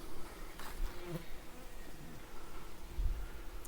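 Honey bees of the Carniolan breed buzz around close by in early September, a soft continuous droning hum with individual bees passing near, no speech.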